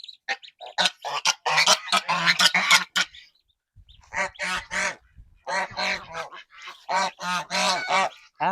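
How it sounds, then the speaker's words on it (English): Geese honk loudly and repeatedly in close bursts, joined by other farm fowl such as ducks and roosters, with brief pauses between volleys of harsh, nasal calls. "my gooses and roosters are so loud"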